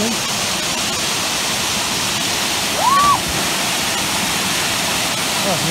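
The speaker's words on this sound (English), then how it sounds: "The third waterfall" Steady, loud roar of a waterfall on the Ystradfellte Four Falls Trail in Wales, a dense continuous rush of falling water filling the scene, with a brief whistle-like tone rising and falling partway through.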